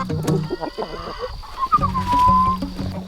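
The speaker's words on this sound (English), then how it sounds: "That Rhode Island Red right near me, her name's Rosalina, and she's the champion" Rhode Island Red chickens cluck and murmur close by in a busy mix of short calls, one drawn-out squawk rising above the others.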